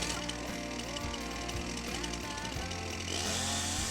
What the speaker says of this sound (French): On fixe la tronçonneuse au châssis de l'appareil, on pose la bûche de bois sur le chevalet mobile